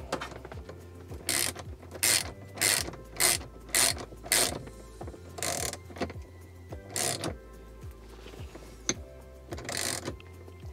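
A ratchet tightens the Hansshow swivel screen mount in a Tesla Model 3/Y, about ten short bursts of loud clicking with brief pauses between them, plus a few faint clunks.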